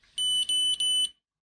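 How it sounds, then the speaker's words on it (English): iCare HOME2 tonometer sounds an error signal: three long, clear electronic beeps in even succession, close and fairly loud, then silence. "The probe base light flashes red and you hear 3 long beeps after making a measurement."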